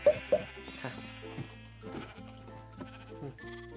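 Sheep bleat in the Minecraft video game, a few short, fairly close calls at the start followed by softer game sounds.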